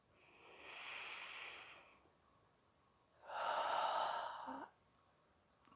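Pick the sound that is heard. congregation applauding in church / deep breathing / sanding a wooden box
deep breathing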